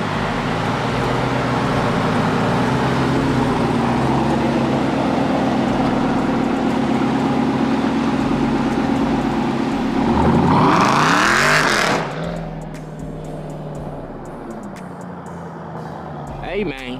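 Jeep Grand Cherokee Trackhawk engine roaring loud and steady for a burnout, rising to a sweeping rev flare near the end before dropping back to a lower rumble, with voices nearby.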